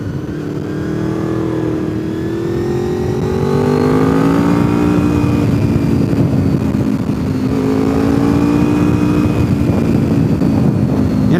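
A Honda VFR motorcycle engine drones steadily while riding, climbing in pitch through two rising revs as the bike accelerates, loud and continuous with wind rush and no talking.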